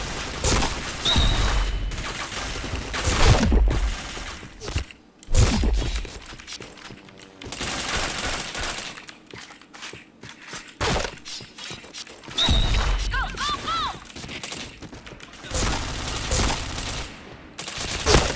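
Gunfire in a shooting video game, with rapid automatic bursts and single shots in dense clusters, loud and close, broken by short quieter gaps.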